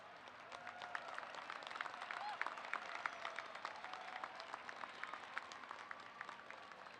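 Graduates at a university commencement applaud and cheer, a faint, distant, sustained wash of clapping from a large crowd with occasional whoops and voices mixed in.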